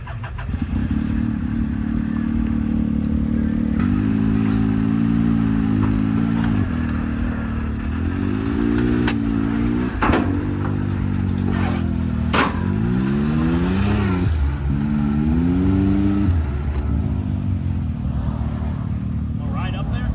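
A Can-Am X3 side-by-side engine revs hard over and over at a short course racing track, pitch climbing and dropping in repeated bursts under a steady idle rumble.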